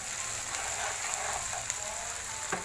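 Masala frying in oil over a raised flame while making Chicken Changezi, a steady close hiss and sizzle with a few faint pops and stirring clicks.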